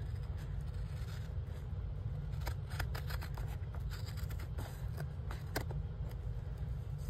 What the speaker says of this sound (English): I'm gonna cut this off